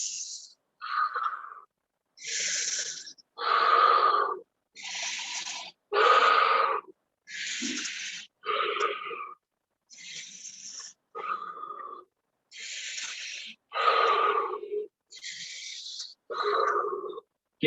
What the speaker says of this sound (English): Exhale all your air. And here we go. Inhale.